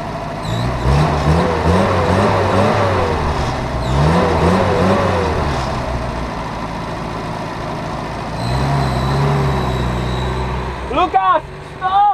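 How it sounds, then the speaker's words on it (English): A car engine runs and revs, its pitch rising and falling in repeated surges, loud and close, with a squeal of higher tones near the end. "This is the engine."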